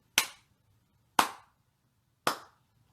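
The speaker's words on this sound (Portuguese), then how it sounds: "quando a hóstia é levantada, eles batem 3 palmas. Só assim, não é uma salva de palmas, são palmas ritmadas" Three sharp, evenly spaced hand claps in a church at the elevation of the host during Mass, each a crisp isolated crack in otherwise quiet surroundings.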